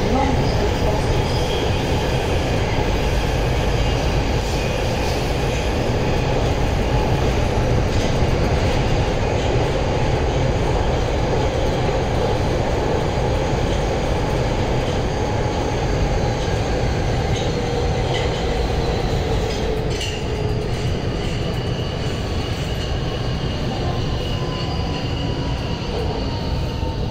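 A Budapest metro train running toward Kelenföld station, a loud steady rumble of wheels and motors inside the carriage with faint squeals and rattles throughout, continuous and close.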